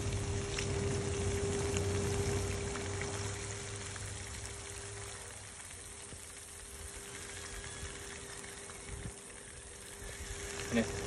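Chopped onion and sweet pepper sizzling in hot oil, a steady crackling hiss that is louder at first and then settles into a softer, even fry, with a low hum underneath.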